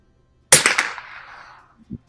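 A custom 1896 Schmidt Rubin rifle fires a sighter shot: one sharp, loud crack with a fast rattling decay trailing off over about a second, then a brief soft thump.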